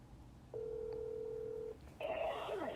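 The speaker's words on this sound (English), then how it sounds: "So I had Gabby call him from her phone with me conferenced in on the line." A phone call is placed: a single steady tone sounds for about a second, then a brief pause before a ringback or ringing tone begins, clear and moderately loud on a quiet line with no talking.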